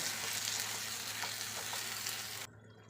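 Prawns frying in oil make a steady, close broadband sizzle with faint crackles throughout, which drops off abruptly near the end and leaves only quiet background.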